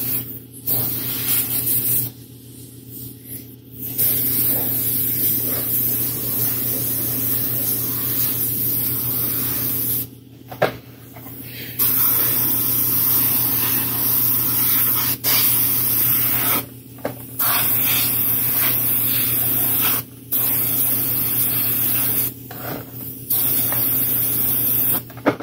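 A loud, steady spray hisses as a coat is applied to a 1/4-scale custom Thor sculpture, running in long continuous blasts broken by several brief pauses, with no talking.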